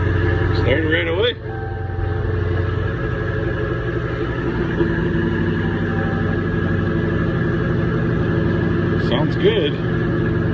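A Dodge Challenger engine idles steadily in cold weather just after starting, a constant low rumble throughout with a couple of brief higher whining tones near the start and end.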